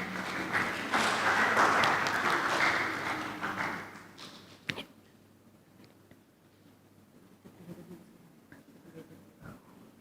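Conference audience applause bursts loudly for a few seconds, then fades to scattered claps and light taps in a quieter room.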